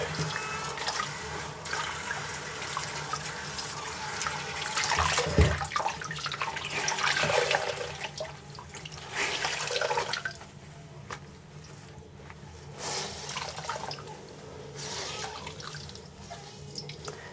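Laundry is rinsed under a running tap in a cruise ship stateroom sink: a steady rush of water, splashing and sloshing as the clothes are worked, fairly close and alone.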